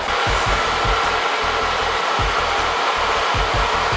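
A hair dryer fitted with a diffuser dries curly hair, giving a loud, close, steady whooshing roar that holds unbroken throughout.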